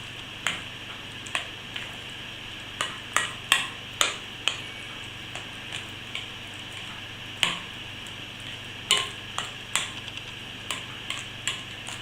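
A squash gratin mixture of potimarron, cream and egg being stirred in a bowl, with faint, scattered clicking and tapping of the utensil at an uneven rhythm, with no talking.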